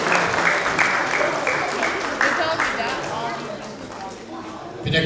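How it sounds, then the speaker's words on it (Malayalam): Crowd applause at a Kerala Association Easter, Vishu and Eid al-Fitr celebration as the association president is invited to inaugurate, steady clapping sustained throughout with voices mixed in. "എല്ലാവരും ഒന്ന് കൈയടിച്ചേ"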